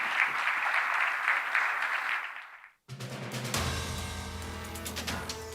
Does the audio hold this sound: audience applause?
yes